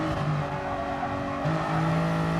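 Toyota Supra GT race car lapping Brands Hatch in a sim racing game, its engine droning steadily with a rising rev note near the end, loud and close with no talk.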